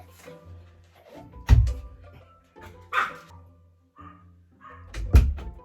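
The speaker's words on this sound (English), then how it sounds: "He just wants to go and bark." A dog barks in three loud, separate bursts with quiet gaps between, close by, with some faint background shuffling.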